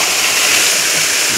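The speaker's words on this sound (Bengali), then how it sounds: "জলটা পড়ছে।" Water pouring and splashing continuously at a fishing pond, a loud, close, steady rushing wash filling the whole moment.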